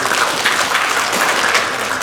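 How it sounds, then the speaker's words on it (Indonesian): Steady, dense applause from an audience at a faculty dean handover ceremony at FIB UI, filling the whole moment at even loudness with no voices over it. "kita beri tepuk tangan juga untuk Pak"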